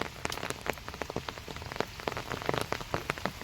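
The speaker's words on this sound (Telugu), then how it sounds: "వాన ఇంతకింతకి పెరుగుతాను తప్పితే తగ్గనైతే తగ్గట్లేదు" Heavy rain falls outdoors in a village where goats are getting soaked, a dense, constant patter with sharp individual drops striking a nearby surface.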